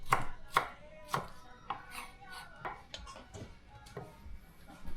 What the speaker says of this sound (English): So we're just basically dicing our tomatoes here.